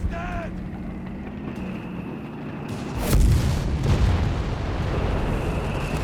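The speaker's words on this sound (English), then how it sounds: "Grenades are being chucked, losses are piling up." Grenades burst amid a Company of Heroes 3 battle, a heavy thud landing partway through over steady combat rumble and background noise, with the rumble continuing loudly afterward.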